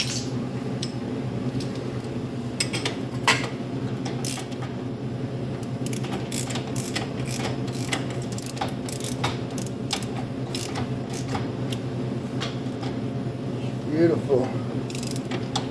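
A wrench ratchets as a bolt is tightened on a KLF300 front lift, giving rapid clicking bursts in irregular runs over a steady low mechanical hum throughout.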